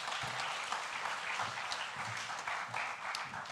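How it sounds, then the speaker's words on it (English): An audience at a law faculty conference in a hall gives sustained applause, a steady, moderately distant wash of clapping with a few sharper claps standing out. "Let's all give a warm applause to Eunice."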